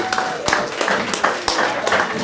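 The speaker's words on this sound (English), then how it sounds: "Round of applause one more time." Applause at a 21st birthday celebration, a modest group clapping with a few sharp, distinct claps standing out, fairly close, with voices mixed in underneath.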